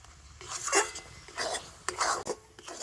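Semolina is stirred in a pan over low heat, with repeated scraping and rubbing strokes of a utensil against the pan in an irregular rhythm, close and moderately quiet with a faint sizzle.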